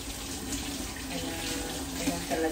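Tap water runs steadily into a kitchen sink while a cured, preserved ham is rinsed under it, a continuous close splashing flow with slight shifts as the meat moves through the stream.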